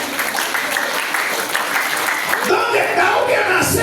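A church congregation claps together, a steady wash of applause with voices mixed in and rising toward the end.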